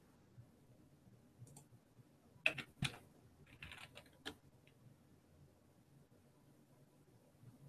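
Quiet, scattered clicks of a computer keyboard being typed on, a few isolated keystrokes followed by a short cluster of sharper taps, faint against a low background hiss.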